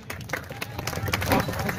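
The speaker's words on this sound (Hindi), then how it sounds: "फारूक अहमद साहब के लिए एक बार जोरदार तालियां बजा दीजिए" An audience claps and applauds for Farooq Ahmed at a public gathering, with steady, moderately loud clapping mixed with crowd murmur and some voices throughout.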